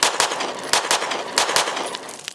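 An all-metal Smith & Wesson M&P pistol with a factory compensator fires rapidly, a fast uneven string of loud, close sharp shots packed into just over two seconds.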